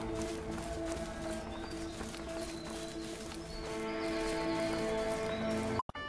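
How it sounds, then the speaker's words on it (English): Horses loose from a barn in the video game A Way Out, with steady hoof clip-clop and occasional whinnies over layered game music, ending in a brief silence. "Ah, hell, the horses are escaping"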